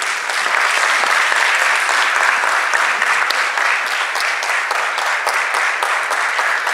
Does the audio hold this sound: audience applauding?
yes